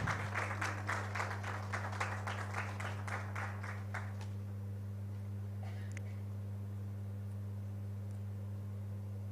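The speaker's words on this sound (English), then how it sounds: "Let's keep clapping, please." An audience at Billabong High International School applauds a welcomed guest in a quick burst of clapping that thins out and stops after about four seconds, leaving a steady low electrical hum and faint room noise.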